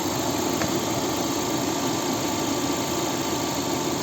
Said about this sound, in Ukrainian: Ось звук робота двигуна.